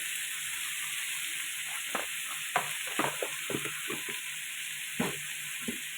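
Spices with salt and turmeric fry in a pan, a constant close sizzle broken by irregular clicks and scrapes as a spatula stirs through the mixture, with no voices.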